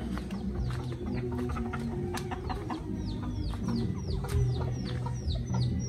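Darag hens cluck and call in repeated short bursts, some rising into brief cackles, over a low background hum on a farm with no talk.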